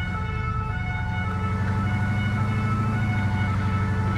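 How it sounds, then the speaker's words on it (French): A police vehicle siren in the video game Arma 3 gives a steady, loud wail with a continuous engine hum underneath, sustained throughout without pause or speech. "on peut allumer les gyrophares et la sirène."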